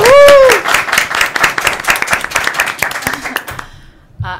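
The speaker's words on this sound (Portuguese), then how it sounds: "Então, palmas." A small group in a podcast studio claps in a brisk burst of applause lasting a few seconds, following a brief voice at the start, then dies away into quiet.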